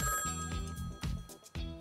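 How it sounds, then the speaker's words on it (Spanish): A telephone rings in repeated bursts, loud and close, with tonal ringing and brief gaps between the rings. No one speaks over it. "Suena el teléfono."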